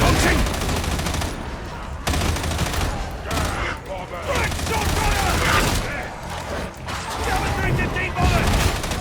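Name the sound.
Fate Transfusion weapon firing in the video game Warhammer 40,000: Darktide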